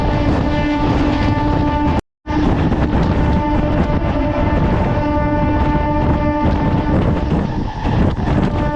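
A Narasapur MEMU Express 17269 train runs at speed with a loud, steady roar and rumble of carriages on track, broken by a brief dropout, with no voices.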